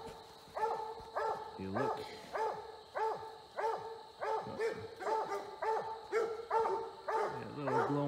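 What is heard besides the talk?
coon hunting dogs barking at a treed raccoon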